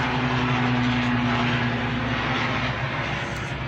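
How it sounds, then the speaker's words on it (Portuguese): Steady, loud rotor-engine drone of a helicopter passing overhead outdoors near a garden corner, a continuous low hum and broad roar holding for several seconds and easing slightly at the end, with no talk. "O helicóptero está passando."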